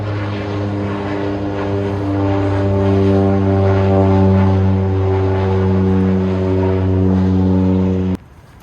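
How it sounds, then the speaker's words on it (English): A propeller airplane takes off close by at a marina boat show, roaring with a steady droning engine tone, building slightly before cutting off abruptly near the end. "we got a plane just taking off here"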